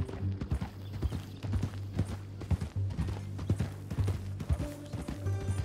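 Horse hooves clip-clop steadily in Red Dead Redemption 2, a close, even rhythmic trot with a low droning background and no talk.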